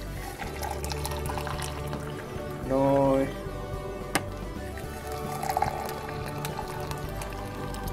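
Hot water from an electric kettle pours into a cup of instant coffee in a short gurgling burst with a rising pitch as it fills, set in a quiet kitchen with a brief spoken word nearby.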